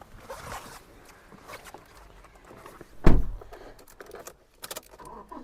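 Keys for a 2019 Toyota Innova Crysta 2.4 GX diesel jangle close by in a few soft metallic shakes, with one sharper clink midway, over quiet background.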